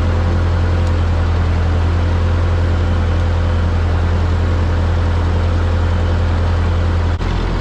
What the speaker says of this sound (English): I've started the tractor now to get the alternator working